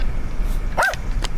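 A dog gives a single short bark during an outdoor neighborhood walk, heard at moderate distance over steady background noise, with no talking.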